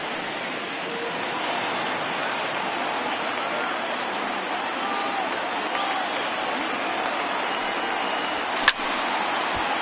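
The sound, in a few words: baseball stadium crowd of over 30,000 cheering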